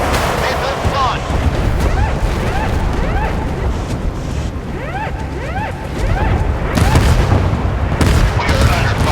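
Naval gunfire and missile explosions from the warship combat game Force of Warships: repeated booming shots and whooshing launches, dense and loud, with voices speaking over the battle.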